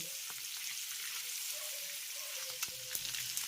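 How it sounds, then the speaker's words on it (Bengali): Eggs seasoned with Kashmiri chili powder and salt fry in a pan with a steady, soft sizzle. A few faint clicks come near the end, and no one speaks. "ডিমটাকে খুব সুন্দর করে একেবারে লাল লাল করে ভেজে নেব"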